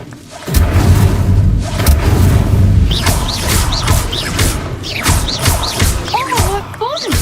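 Incendio fire spell cast in Hogwarts Legacy, a loud whooshing burst of flame with a low rumbling roar that sustains for several seconds, followed by scattered magical chimes and effects.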